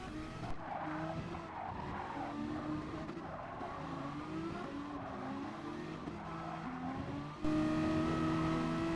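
Race cars in GT Sport, a racing video game, lapping the Autopolis circuit: steady layered engine drone with shifting pitch and tire squeal through corners, loud throughout, with a sharper engine surge near the end.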